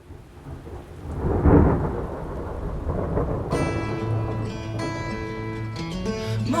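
Thunder rumbles loudly over steady rain, with a rolling swell early on and continuous downpour while a musical tone fades in later.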